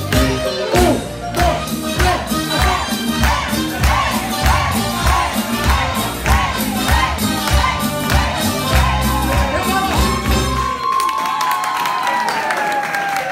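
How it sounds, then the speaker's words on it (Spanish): A live concert crowd claps along in steady rhythm beneath loud band music at a tribute show; the clapping and music run together without a break, then drop away near the end into a single held tone. "Y las palmas de toda mi gente."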